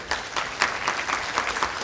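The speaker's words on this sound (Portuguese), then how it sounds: "Uma salva de palmas para o Valdiran." Audience applause at a Brazilian real-estate registry officers' conference lecture, honoring a first-place finisher in the Tocantins exam; steady moderate clapping from a seated crowd with small swells, no talk.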